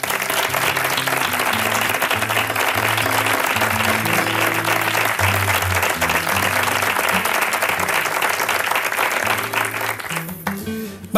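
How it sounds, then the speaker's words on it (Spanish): Loud, sustained audience applause for a musical group from Seville at a Holy Week flamenco program, with low held musical tones sounding beneath the clapping until it thins out near the end. "pido para comenzar un aplauso para ellos"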